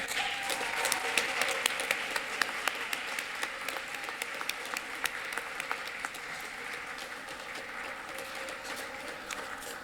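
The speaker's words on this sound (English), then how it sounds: "Big round of applause for all" Audience applause for winners at a youth speech competition final, sustained clapping with sharp individual claps standing out, fading slightly toward the end.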